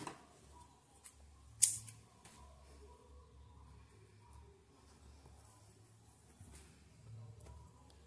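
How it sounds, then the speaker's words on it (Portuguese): A single quick snip of scissors cutting yarn while finishing a crocheted amigurumi doll, one sharp close click standing alone in a quiet room. "Vou cortar aqui o fio com um espaço que dê para mim fazer a costura"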